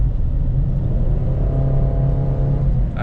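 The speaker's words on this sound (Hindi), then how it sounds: "एक्सेलरेशन आपके सामने" A 2021 sixth-generation Honda City accelerates with economy mode switched off, its engine hum rising steadily in pitch under a constant low road rumble, heard from inside the car with no talking.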